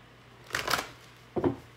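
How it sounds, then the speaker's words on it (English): Oracle cards are shuffled in two short bursts, a rapid papery riffle followed by a briefer second flutter after a pause, heard close over a faint steady hum. "These cards are not shuffling smoothly"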